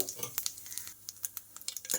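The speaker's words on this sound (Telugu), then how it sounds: "తాలింపు గింజలు బాగా మరుగుతున్నాయండి చూడండి" Mustard-type tempering seeds sputter and crackle in hot oil for a methi leaves and tomato curry, giving sharp, irregular pops over a soft sizzle, close and fairly loud, with no talking.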